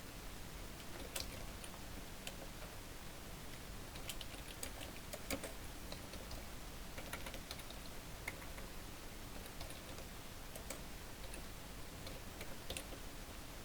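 Computer keyboard keys tapped in quick, irregular clicks, faint and close against a quiet background, continuing for several seconds with small pauses.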